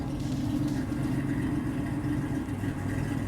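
A Buick Grand National engine runs steadily at idle, a low, even rumble heard close and alone with no talking over it.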